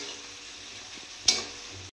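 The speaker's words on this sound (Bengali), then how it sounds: "এবার পেঁয়াজটা আমি ভালো করে ভাজা করে নেব" Onions frying in a pan as the base for a mutton curry, giving a steady close sizzle with light stirring scrapes and one brief louder clatter near the end.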